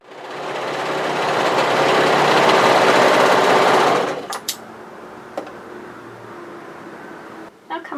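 A sewing machine stitching a cowl neck top runs loud and steady for about four seconds, then stops, leaving a few faint clicks and handling noises.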